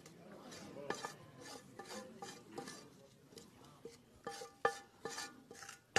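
Chorizo scraped and stirred around a hot pan in a TV kitchen, with irregular metallic scrapes and clinks, some sharper knocks near the end, and low talk underneath.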